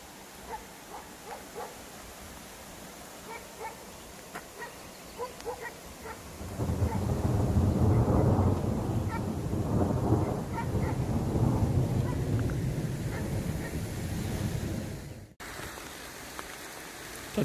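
Thunder during a rainstorm: a low rumbling swell builds midway and lasts several seconds over steady rain, with a dog barking faintly at times and brief sharp knocks earlier.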